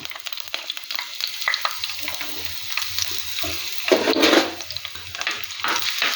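Ginger and garlic frying in hot coconut oil for a Kerala mackerel curry, crackling steadily and close, with scraping stirs and a louder burst of sizzle midway; nobody speaks.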